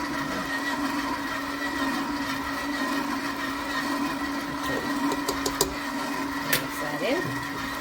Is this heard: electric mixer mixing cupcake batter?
yes